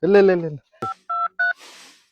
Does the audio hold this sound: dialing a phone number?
yes